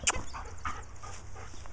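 Puppies give a sharp yip followed by faint whimpering, heard close in a short, quiet moment.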